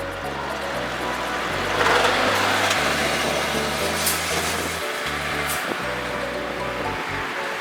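A car driving toward Kegon Falls near Lake Chuzenji, a continuous road and engine rumble with broad rushing tire noise, steady and fairly close, no talking.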